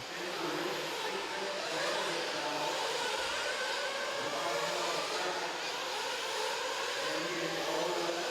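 Nitro RC off-road buggies race around a track at a national championship A-main final, their small engines making a steady, dense buzzing whine that stays loud and continuous throughout.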